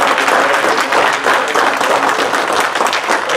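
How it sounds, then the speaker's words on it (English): Church congregation applauding during a service, loud sustained clapping from many people filling the space, steady and unbroken with no voices on top. "One more round of applause for God."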